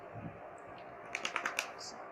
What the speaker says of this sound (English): Now I will try to type the protected data